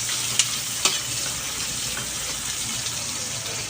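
Shrimp sizzle steadily in a hot pan for sautéed shrimp, a dense, even frying hiss with a couple of sharp stirring clinks near the start, no talk.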